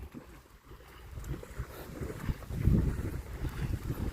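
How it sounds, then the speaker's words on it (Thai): Strong wind gusts outdoors near water where shrimp traps are set, rumbling and buffeting a microphone in uneven low surges that swell loudest midway, with no talking. "เพราะว่าลมมันแรงมันพัดไปหมดเลย"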